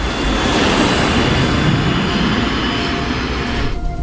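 Loud, steady roar of a jet airliner's engines at climb power during takeoff, a dense broadband rush holding constant for several seconds before easing slightly at the end.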